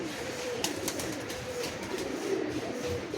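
Giribaz pigeons, a Bengali flying breed, coo softly and steadily at close range, a low continuous murmur with a few brighter flutters over it.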